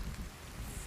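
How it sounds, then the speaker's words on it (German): Rain falls steadily in the multiplayer survival game Sons Of The Forest, a soft, continuous hiss with low rumbling underneath, faint and without talk. "Es regnet."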